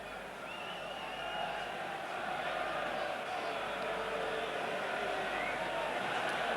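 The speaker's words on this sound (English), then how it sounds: "An absolutely tremendous atmosphere and a huge crowd at Central Park today." A huge crowd at a rugby league Challenge Cup semi-final between Leeds and St Helens at Central Park in 1994 keeps up a steady, distant roar and murmur throughout, with a commentator speaking over it.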